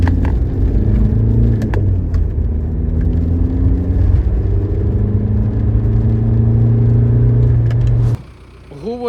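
A Volkswagen Golf MK4 drives along with a steady low engine hum and tire rumble from inside the cabin, the pitch shifting gently with speed before dropping away near the end.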